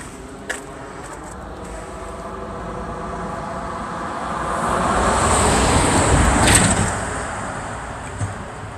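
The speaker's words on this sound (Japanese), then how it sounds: "車来た、トラックが来た。" A truck drives past on a road near a crosswalk by a park at night, its low rumble swelling from a distance to a broad peak and then fading away, with no talking.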